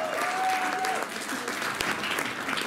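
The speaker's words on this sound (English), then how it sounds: "could you just give another round of applause to our amazing singers?" Cabaret audience at a Cardiff show applauding the singers, with dense, steady clapping and a few voices, close and sustained throughout.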